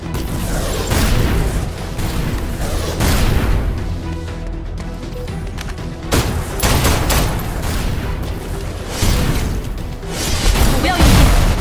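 Rapid gunfire in the Snowbreak: Containment Zone video game, aimed at ammo boxes stacked behind a turret, with repeated loud bursts and booming impacts over about twelve seconds, broken by brief lulls.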